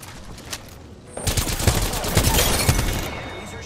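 Rapid automatic gunfire in the Apex Legends battle royale video game on PS5, a dense loud burst of shots kicking in after a quieter moment and rattling on to the end.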